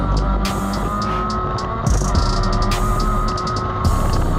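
Formula Mazda open-wheel race car at speed on a track, a loud steady engine drone with tire noise and repeated bursts of high-pitched hiss or squeal as it works through corners.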